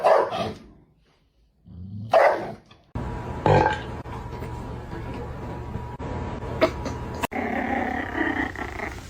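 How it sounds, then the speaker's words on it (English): A dog growls and barks in short, uneven bursts separated by silent gaps, with a steady hum of room noise underneath. "Was that a growl?"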